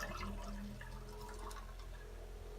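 An electric RV toilet flushes pink antifreeze during winterizing, a faint gurgling rush of liquid with small splashes and a low pump hum, heard alone in a quiet space.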